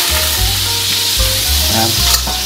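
Minced garlic hits a hot pan for seafood chow mein with fried tofu, giving a loud, continuous close-up sizzle with some stirring.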